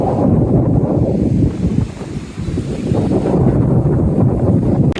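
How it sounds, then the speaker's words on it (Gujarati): Sea waves surging in at full high tide under monsoon wind, heard as a loud, continuous low roar of surf buffeted by heavy wind rumble on the microphone, with no voices. "અત્યારે દરિયામાં ફૂલ ભરતી છે ને મસ્ત મજાના મોજા આવે છે"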